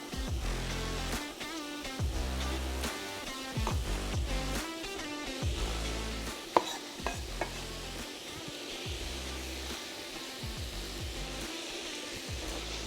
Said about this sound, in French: Et là, de nouveau, on remue.